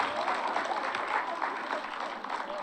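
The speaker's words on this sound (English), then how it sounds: "So if everyone could give a big round of applause for Miss Walker's class." Audience in a room applauding a school class after their art presentation, dense continuous clapping throughout with faint murmurs of voices underneath.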